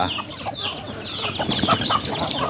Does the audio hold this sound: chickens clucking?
yes